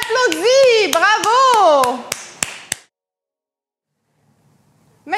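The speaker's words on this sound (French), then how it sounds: "Et on s'applaudit" Children clapping together during a kids' basketball session, several sharp separate claps in a row over an adult's sing-song voice, then silence with a faint voice at the very end.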